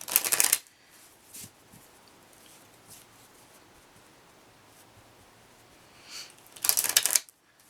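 A shamanic healing card deck is shuffled close up, with two brisk riffling bursts at the start and end and quiet handling rustles in between, with no voices.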